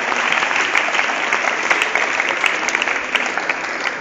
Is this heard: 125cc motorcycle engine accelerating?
no